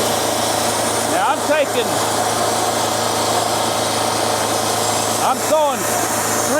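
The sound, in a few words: sawmill sawing white oak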